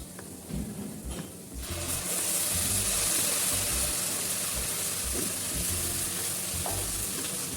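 Browned onion sizzles in a pan as tomato paste goes in. The frying swells into a loud, continuous hiss after a quieter start, with occasional low knocks and stirs.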